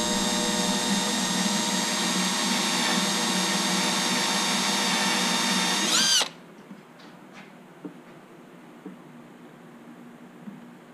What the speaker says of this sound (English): I don't care if we drill into the jig